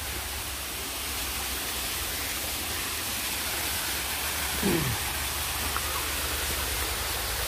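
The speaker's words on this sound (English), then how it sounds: "there's a waterfall" Steady broadband rushing of a waterfall over rocks on a park hiking trail, constant and fairly close, with a brief faint voice partway through.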